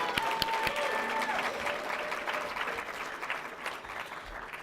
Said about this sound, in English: Another round of applause for Marsha.